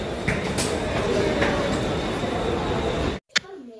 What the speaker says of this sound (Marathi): आम्ही फायनली ट्रेन आली, ट्रेनमध्ये बसलो